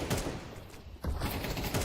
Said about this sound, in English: And Soulfly with 2 headshots. And an actual triple kill